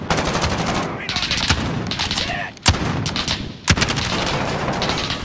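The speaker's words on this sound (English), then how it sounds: "How about we shoot this way?" Call of Duty gunfire crackles in rapid automatic bursts, punctuated by two sharp, loud shots, with a voice faintly present beneath the shooting.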